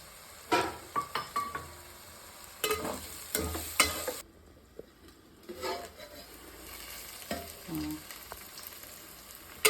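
Onions and green chillies frying with kasuri methi in a pan for restaurant-style mutton gravy, close sizzling broken by bursts of spoon scraping and clinks against the pan, with a brief quieter gap midway.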